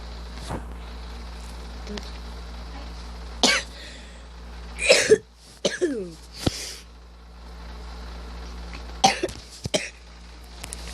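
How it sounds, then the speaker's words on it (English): A person coughs in several sharp bursts, with a few isolated coughs early on and a clustered fit of harsh coughing mid-way, then two more coughs near the end, close and fairly loud over a quiet room hum. "Sorry, I have a cough."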